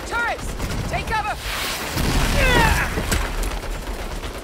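Turret gunfire in the Saints Row video game, rapid bursts of shots and impacts with whooshing projectiles, loud and close, over music and battle noise, with voices shouting briefly.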